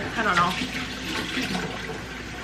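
Warm tap water runs over hands at a sink, a steady close splashing rush heard under a person speaking briefly.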